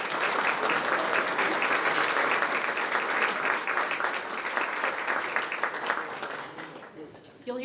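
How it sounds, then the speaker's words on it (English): Large audience at a Burlingame/SFO Chamber of Commerce annual meeting applauds Proterra, winner of the city's Green Business Award; dense, sustained clapping fills the room before thinning out near the end. "please give them a large round of applause."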